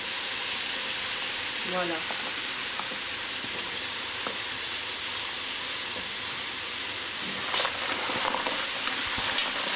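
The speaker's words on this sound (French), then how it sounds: "je mets le lard salé, le lard blanc salé haché." Chopped salted white pork fat frying in a pan with a large persillade of garlic and parsley, giving a steady loud sizzle with occasional stirring scrapes and a brief spoken word.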